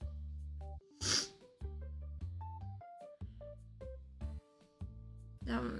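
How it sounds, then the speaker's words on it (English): A single sharp sneeze bursts out amid steady background music, followed later by another breathy burst. "That sneeze really hurt, actually,"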